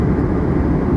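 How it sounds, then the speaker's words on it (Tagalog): Steady, loud cabin drone of an airliner in flight from Manila to Davao, a dense low rumble holding evenly throughout with no talk over it. "flight path ng eroplano na sinakyan natin ngayon ay dumadaan tayo sa ibabaw, himpapawid sa airspace ng Agusan del Sur"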